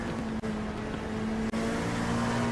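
A naturally aspirated race car engine revving to 8,000 RPM at the Suzuka circuit in a sim-racing endurance event, a steady loud droning whine with two brief drops at gear changes and no talking.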